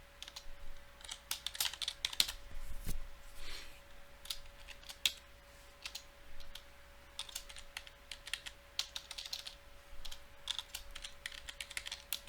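Computer keyboard clicking as code is typed in PowerShell, irregular bursts of quick close keystrokes with short pauses between, fairly quiet and with no voice over it.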